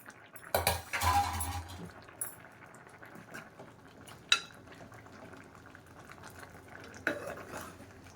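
A pot of dosakaya pappu, a Telugu lentil dish with cucumber, simmers under a lid with a soft steady bubbling, broken early by a loud clatter of the lid and metal spoon and a few later clinks.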